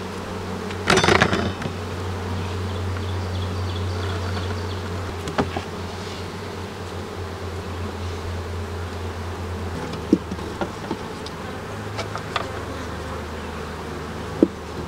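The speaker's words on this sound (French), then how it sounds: "je viens de voir un essaim passer, littéralement un nuage d'abeilles qui est passé" A swarm of honey bees flies past outdoors, a sustained droning hum with a louder burst early on and scattered sharp clicks and knocks throughout, no voices.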